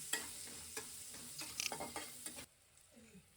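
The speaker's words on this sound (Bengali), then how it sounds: "পেঁয়াজটা একটু হালকা ভাজা ভাজা হয়ে গেছে" Chopped onion frying in a pan for egg curry, a close, crackling sizzle broken by the scrape of stirring, then an abrupt drop to quieter sizzling in the last second.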